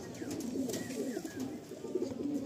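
Madrasi tournament pigeons coo softly at close range, repeated low throaty calls in an uneven rhythm over quiet background noise.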